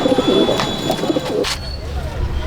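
Kalduma pigeons in a loft at Mograhat coo close by in soft, throaty bursts, while a voice talks briefly over the birds.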